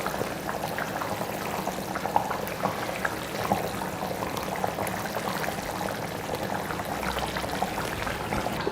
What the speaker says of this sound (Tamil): நல்லா கொதிக்க ஆரம்பிச்சிருச்சு பாருங்கள்.